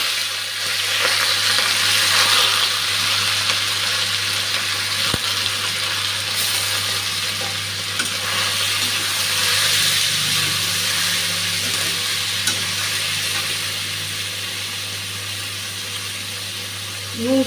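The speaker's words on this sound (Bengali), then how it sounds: "তেলটা গরম হয়ে গেছে, এখন মেখে রাখা মাছটা দিয়ে দিচ্ছি।" Marinated kaachki fish sizzles steadily in hot oil in a pan, a dense, continuous crackle with small pops that holds close and even throughout.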